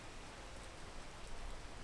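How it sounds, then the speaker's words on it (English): Steady rain in the alpine mountains of the game Peak, a faint, even hiss of falling drops with no other sounds. "Okay, is this rain gonna stop?"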